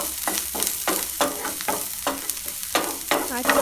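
Chopped onion, ginger and garlic sautéing in oil in a pan for veg ball Manchurian: close, steady sizzling with rhythmic scraping stirs throughout.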